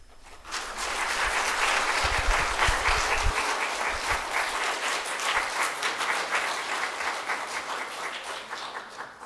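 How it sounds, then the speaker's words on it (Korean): A church congregation breaks into sustained applause at a candle lighting, many hands clapping together in a dense, full wash of sound that swells fast, holds for several seconds and then slowly thins, with a few low thumps underneath. "우리 점화할 때는 박수를 한번 치면 좋겠어요"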